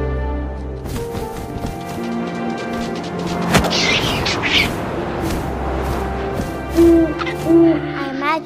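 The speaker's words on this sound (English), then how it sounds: "And suddenly, I was an owl." An owl hoots in the video game What Remains of Edith Finch over layered ambient game music, with deep booming swells and a couple of sharp louder accents.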